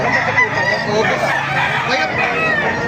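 Many chickens and roosters at a busy Bocaue market crow and cluck together in a loud, dense chorus, close by, with someone talking over the birds.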